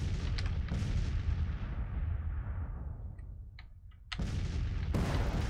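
Civil War cannon artillery fire in Grand Tactician, a heavy boom decaying over several seconds, followed by another sharp distant blast and then a further boom; no talking.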